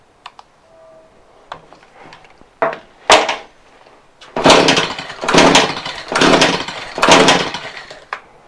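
Stihl HS45 hedge trimmer engine during idle tuning, with a few clicks and short pulls, then the two-stroke motor firing in several surging revving bursts, close and loud.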